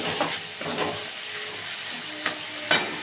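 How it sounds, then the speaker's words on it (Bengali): Vegetable dal sautéing in a pan, a soft steady sizzle with a few light utensil scrapes and taps near the end. "একটু কষিয়ে নেবো"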